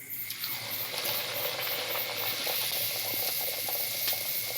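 A paratha frying in hot oil, with a steady bubbling sizzle and scattered crackles that stay close and continuous throughout.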